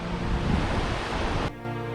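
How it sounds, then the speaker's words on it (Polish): The Hraunfossar waterfalls in western Iceland, a series of falls pouring from a lava field, give a steady broadband rush of falling water that turns abruptly duller and quieter partway through, with no talking. "O, widać ile tych wodospadów."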